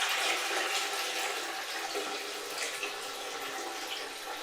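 Water rushes steadily out of the opened tank of a Namco Scooter carpet extractor into a commode, a continuous close gushing pour with no talk.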